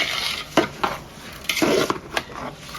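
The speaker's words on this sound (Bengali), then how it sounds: "এবার সবকিছু ভালো করে মিশিয়ে নেব।" A spoon stirs pulao with peas in a metal pot, giving repeated scraping clinks and knocks against the sides at an uneven pace over a faint sizzle, close by with no voices.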